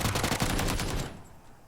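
Automatic gunfire in the PUBG video game on a map where shots pass through walls, a rapid loud burst of shots for about a second that then fades into a quieter tail.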